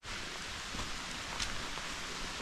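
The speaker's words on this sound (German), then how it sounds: "Der Regen wird auf jeden Fall ein bisschen weniger" Steady rain falls during a hike on the Rheinsteig trail between St. Goarhausen and Kaub, a continuous broadband hiss with faint scattered drop ticks, no voices.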